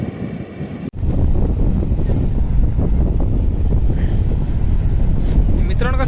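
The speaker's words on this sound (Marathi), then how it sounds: "आणि वारा वगैरे जास्त असल्यामुळे कसं तुम्हाला आवाज देखील येत नसेल मित्रांनो" Strong beach wind at Rajodi Beach, Nalasopara, buffets the microphone in a loud, continuous rumble after a brief dip near the start, drowning out most other sound.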